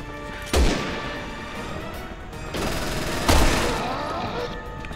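Gunfire in the video game Resident Evil 6: two loud, sharp blasts roughly three seconds apart, each with a ringing echo that fades slowly over a continuous game background.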